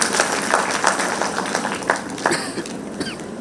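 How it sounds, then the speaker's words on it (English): Conference audience applauding a nursing presenter as she is introduced, many hands clapping in a fairly loud, busy patter that thins toward the end as a few faint voices come through. "Let's give her a huge round of applause."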